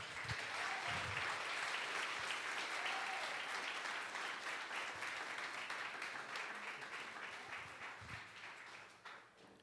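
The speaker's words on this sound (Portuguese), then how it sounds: "Você pode aplaudir o Senhor bem forte." Church congregation at a Sunday service applauds loudly and continuously, a thick wash of clapping that slowly fades toward the end.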